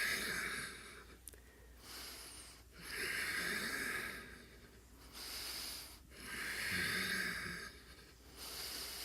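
Slow audible breaths during a yoga stretch, long airy inhales and exhales rising and falling in a steady rhythm, close and fairly quiet, with no talking over them.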